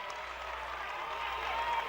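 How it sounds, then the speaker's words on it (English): Crowd at a high school basketball game, Hampton Crabbers versus South Lake Seahawks, gives a steady round of applause, dense clapping filling the gym throughout. "the crowd gives him a nice round of applause as he appears to be okay"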